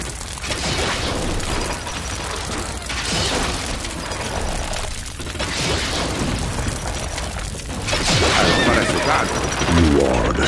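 Horse neighs in the Stronghold Crusader strategy game rise over a steady bed of battle and machinery noise, a few whinnies spread across the stretch, with a louder clatter near the end.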